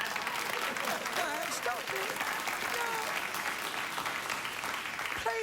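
A late-night television talk show studio audience applauds loudly and continuously while the host talks over the clapping.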